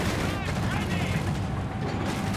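Gunfire in Company of Heroes 3, an anti-tank half-track firing among a dense, continuous battle din of shots and explosions, with speech-like commentary mixed in.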